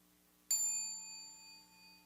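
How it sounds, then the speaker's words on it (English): A single meditation bell is struck once and rings out with a clear, pure tone that slowly fades in an otherwise quiet space. "Listen to the sound of the bell."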